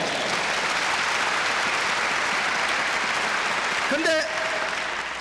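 Sustained applause from a church mission conference audience fills the space with a dense, steady clapping roar, and a voice briefly breaks through near the end.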